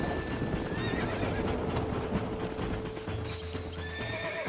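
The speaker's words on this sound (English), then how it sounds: "But this is a really nice horse." Horse hooves clip-clop steadily in the Red Dead Redemption video game, close and rhythmic, while a horse neighs and whinnies over the footfalls.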